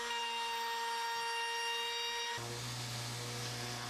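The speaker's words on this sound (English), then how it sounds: "going around with a router" A router cuts around the edge of a woodworking piece with a steady high motor whine and tonal hum; partway through, the pitch and texture shift abruptly as the bit bites harder into the wood.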